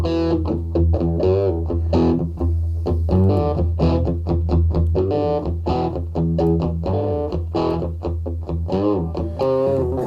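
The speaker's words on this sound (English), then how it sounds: "Part of getting the small cab is manipulating the distortion so that it sounds more like your little tiny amp." Modular synth played through distortion and a small cabinet simulation voiced like a tiny amp, a dense, continuous stream of gritty harmonic notes with steady loudness and no pauses, heard alone.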